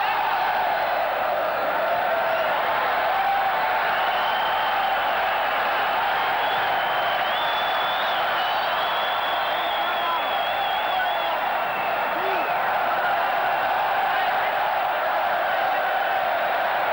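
Spanish home crowd roaring and cheering through a futsal World Cup semi-final against Ukraine in 1996, a steady dense wall of arena noise with scattered whistles and shouts held at an even level throughout.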